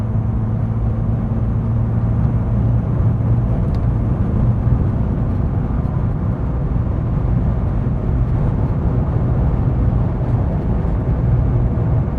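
A Volvo 480 car accelerates up to motorway speed, giving a steady loud low engine drone and road rumble that stays even and continuous throughout, heard from inside the cabin with no talking.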